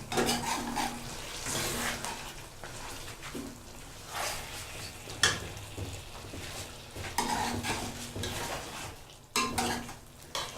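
Chicken karahi with added cream stirred in a pan, a utensil scraping and clinking against the metal in repeated strokes over a soft sizzle, close and steady with no talking.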